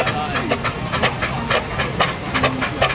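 A 1902 Fowler steam engine at a steam rally hisses and chuffs in rapid, repeated bursts, with faint voices in the background.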